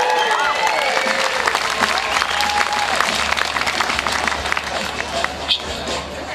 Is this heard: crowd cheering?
yes